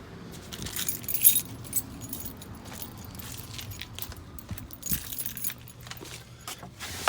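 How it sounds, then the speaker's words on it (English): Car keys jangle and clink close by in fits and starts, near a 2011 Chevy Silverado 1500 LT Z71. A faint background hum sits under them and no one speaks. "Let me find my keys."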